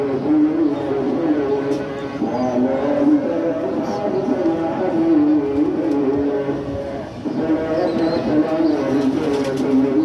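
Pigeons coo in a steady, continuous murmur of overlapping calls at a pigeon gallery or market, with someone talking over them throughout.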